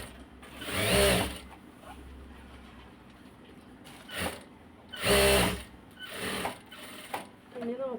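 A sewing machine stitches a princess-cut blouse in several short, close bursts separated by pauses, some quick and some longer.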